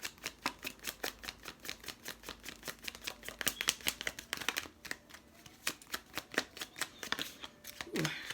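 A Pure Love Oracle card deck is shuffled up close in a quiet room, a long run of crisp, rapid riffles and soft card slaps with no talking.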